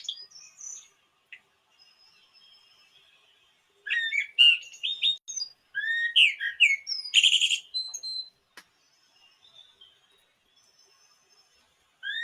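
Birds singing in a forest, scattered chirps and whistled phrases in clustered bursts with quiet gaps between, some calls near and bright, others faint.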